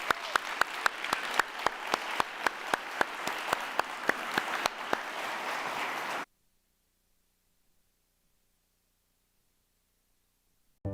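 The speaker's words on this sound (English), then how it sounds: "Please give a round of applause for all of our amazing speakers today, too." Applause from an audience at a live industry research event, a dense burst of clapping that runs loud for about six seconds and then cuts off abruptly into silence.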